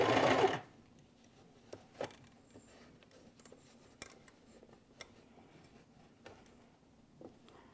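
A sewing machine stitches fabric along a curve for a Rob Peter to Pay Paul quilt block. It gives one short, loud burst of whirring at the start, followed by quiet, scattered ticks and taps, with no talking.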